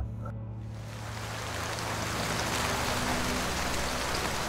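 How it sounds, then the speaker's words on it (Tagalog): Heavy rain pours as a sound effect in a narrated horror story, a dense, steady hiss that swells slightly and fills the background without any voice over it. "Patuloy pa rin naman ang malakas na ulan noon"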